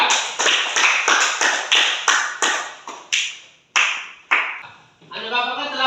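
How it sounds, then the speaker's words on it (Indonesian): A classroom of students claps for a fellow student, a fast run of sharp hand claps that thins out into a few separate claps before a voice starts speaking. "Beri tepuk tangan dulu untuk si Lydia."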